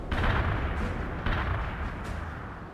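Artillery and gunfire from the World in Conflict war video game, a dense, loud rumble of blasts and shots with fresh impacts near the start and around 1.3 seconds, continuing without any talk.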